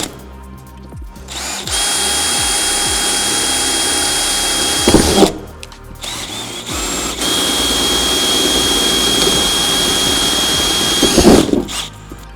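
A power drill whines steadily as it bores 3.5 mm pilot and 8.5 mm holes through metal for a roof light pod on a 2023+ VW Amarok, two long loud bursts separated by a brief pause, with clanks at the start and end of each.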